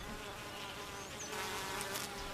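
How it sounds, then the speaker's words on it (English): Honey bees buzzing inside a hive make a steady, dense drone that stays loud and even throughout, with no talking. "Worker bees do almost all the chores in the hive."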